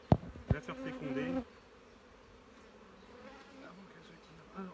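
Honeybees buzz softly around an open hive during a colony transfer from a small nucleus box, a faint steady drone after a few close handling knocks at the start.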